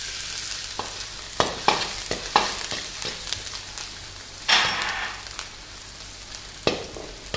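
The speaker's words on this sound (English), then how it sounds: "To the hot oil, we'll add the sliced onions. In the oil, add some garlic." Sliced onions and garlic fry in hot oil with a steady sizzle, punctuated by sharp clinks and scrapes of stirring, close and clear with no talking.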